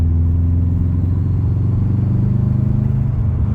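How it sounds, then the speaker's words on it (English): A Subaru WRX with its stock intake box and a blow-off valve idles nearby, producing a loud, steady low rumble with a faint mechanical clatter and no speech. "this is what the stock intake box sounds like. Didn't realize it was in focus, but it does have a blow-off valve, so you can hear the blow-off valve"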